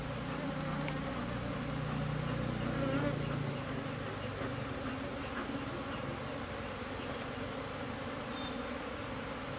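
Honeybees swarm and buzz around an opened hive being smoked during inspection, a dense, steady droning hum that stays loud and close throughout.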